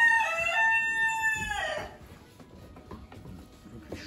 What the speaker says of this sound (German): Wirklich schöner Hahn.